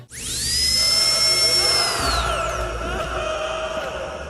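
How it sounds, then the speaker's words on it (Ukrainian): A dentist's drill whining in a horror video game, a loud high-pitched whir that rises quickly, holds steady, then winds down, with no speech over it. "Тут ви почуєте не тільки звуки лікарського свердла"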